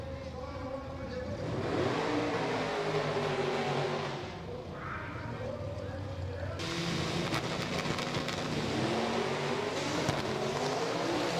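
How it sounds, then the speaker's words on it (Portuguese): Dodge Polara V8 drag car at a drag race start line, its engine roaring loudly and steadily through a burnout for several seconds, with a commentator's voice running over it. "Olha o burnout, rapaz."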